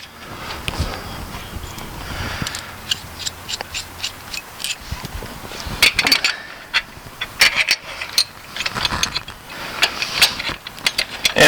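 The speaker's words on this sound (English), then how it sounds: "getting finger tight again to save myself some time with the ratchet" Hand ratchet spinning and tightening metric bolts while repairing a broken trailer jack, steady clicking pawl bursts mixed with metallic rubbing and clanks, close and continuous with no speech.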